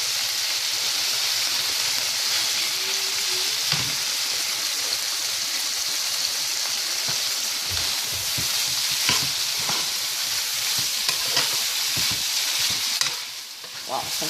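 Tomato paste and ground meat fry in oil with a steady, loud sizzle, broken by occasional stirring scrapes and spatters; no one speaks.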